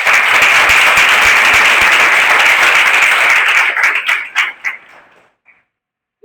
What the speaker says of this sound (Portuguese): Então, salva de palmas para a Bia.